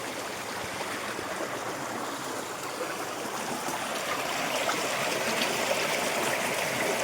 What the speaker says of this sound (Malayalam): ഇതിനകത്തു നിന്നാണ് നമ്മളെ ഈ വെള്ളം ഇങ്ങോട്ട് ചാലായി അങ്ങനെ ഒഴുകി അങ്ങനെ പോകുന്നത്